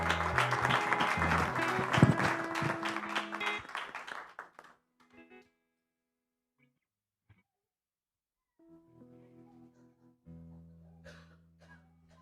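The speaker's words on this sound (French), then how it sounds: "Pouvons-nous applaudir?" Congregation applauding at a church watch night service, a loud sustained wash of clapping that fades away and gives way to quiet, followed by soft voices and the start of singing.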